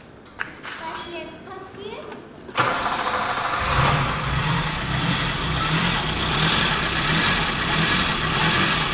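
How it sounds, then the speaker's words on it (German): A Ford Derby's engine is cranked and catches after a timing belt job, going from brief starter noise into a loud, steady idle, with children's voices in the background. "Ich reiß ihn nochmal an, mal gucken, wie er jetzt klingt."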